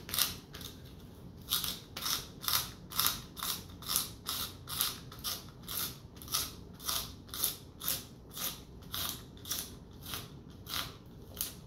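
A manual pencil sharpener grinds pencils in a steady series of about twenty rhythmic scraping cranks, close and fairly quiet, during a timed ten-pencil sharpening run.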